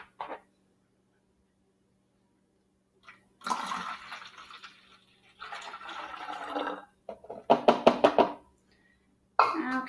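Three-quarters of a cup of vinegar is poured into a model volcano, heard as several short bursts of splashing liquid separated by quiet gaps, the last burst choppy and gurgling.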